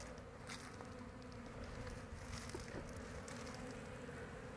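Honeybees buzz steadily around an apiary of several hives, a dense continuous insect drone with faint outdoor background noise throughout.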